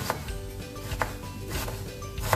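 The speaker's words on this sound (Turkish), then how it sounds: "Onu da hemen şöyle fazla ince olmayacak şekilde doğrayacağım arkadaşlarım." Knife chopping onion on a board, a few sharp irregular chops against a busy kitchen background hum, moderately loud and close.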